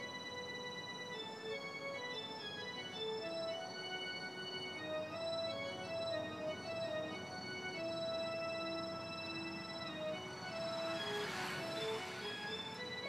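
Slow synthesizer melody driven by biofeedback signals from a Colorado aspen tree, steady sustained tones and gliding notes with no talk, a brief airy swell near the end.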